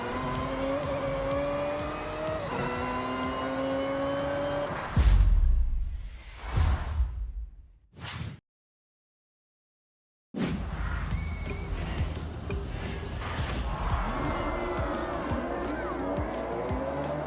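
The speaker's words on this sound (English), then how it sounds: "Everyone is in the same McLaren F1 GT with this incredibly long first gear." A McLaren F1 GT race car engine in the Forza Horizon 6 racing game during a spec race, droning and whooshing past, then cutting out in short bursts and a silent gap before the engine noise returns steady.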